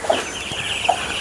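Chickens being fed cluck close by, two short clucks over a steady farmyard murmur.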